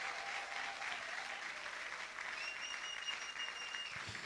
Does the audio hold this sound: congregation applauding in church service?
yes